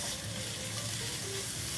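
Garlic cloves and slit green chilies fry in a pan for lamb curry, giving a steady, dense sizzle with light stirring, close and continuous.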